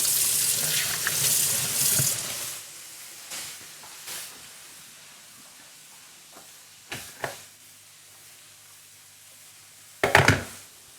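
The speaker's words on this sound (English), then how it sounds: "Getting a little bit of hot water to put that icing thing in" Hot water gushes from a kitchen tap into a sink in a steady rush for about two and a half seconds, then shuts off. A few faint clinks and two sharper knocks follow in a quiet room.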